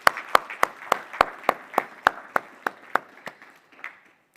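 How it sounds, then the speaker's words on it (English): An audience claps at a corporate presentation in a slow, evenly spaced series of about a dozen sharp claps that gradually fade toward the end, with no talking over them. "Another round of applause for yes, please."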